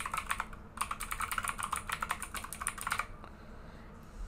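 Rapid typing on a computer keyboard while adding text in a design program, a fast continuous run of close, crisp clicks that pauses briefly, resumes, then stops and leaves quiet room tone.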